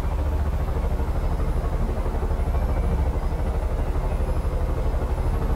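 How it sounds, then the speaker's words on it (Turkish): A helicopter in Far Cry 5 flies with a continuous throbbing rotor and engine drone that stays steady and loud throughout, with no talk over it. "Evet, helikopter kullanmak zevkliymiş ha."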